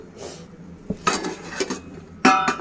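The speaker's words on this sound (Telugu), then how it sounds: "ఇప్పుడు బాండీ పెట్టుకొని స్టవ్ అంటించి ఆయిల్ వేసుకున్నాము" Metal clanks of a kadai frying pan being set on a kitchen stove, a few sharp clatters and scrapes at uneven intervals with a final louder ringing knock, close and clear.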